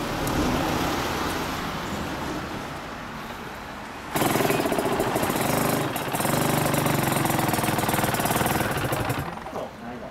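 A 1992 Suzuki RGV250 Gamma two-stroke motorcycle engine with a Tiger Performance muffler idles with a raspy, buzzing putter, then revs up sharply and stays loud and rattling, dropping briefly before easing off near the end.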